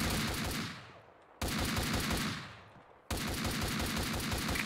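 Gunfire in the video game Max Payne 2 comes as loud, dense rapid bursts, three volleys in quick succession, each tailing off before the next begins.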